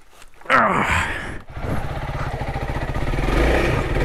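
A Honda CRF300L dirt bike struggles over wet roots on a trail, its single-cylinder engine revving and chugging loudly up close, with a sharp burst of clatter and a brief break partway through.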